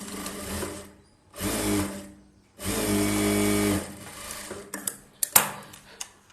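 Sewing machine stitching blouse fabric in two steady bursts of whirring motor hum, separated by pauses, followed by a few sharp clicks and clacks of the mechanism; fairly quiet and close.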